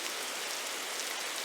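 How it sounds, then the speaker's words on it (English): Rain sound effect, a dense steady hiss of drops on a surface, continuous and fairly loud with no voices. "I have rain."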